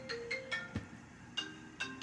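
A mobile phone ringtone goes off, a repeating electronic melody of short bright tones pulsing at a steady rhythm, fairly close and alone.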